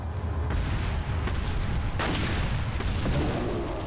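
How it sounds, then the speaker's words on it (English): Heavy gunshots from a weapon firing at a boulder in Resident Evil 4, booming impacts against rock over a continuous low game rumble, with no talking. "Let's see if I can actually shoot the damn rock."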